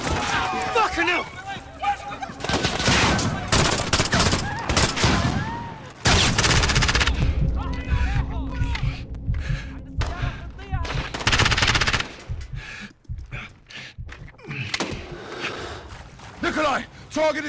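Sustained machine-gun bursts and rifle shots in a Call of Duty: Modern Warfare (2019) street firefight, loud and close, with dense overlapping volleys, brief lulls, and voices speaking between the shots.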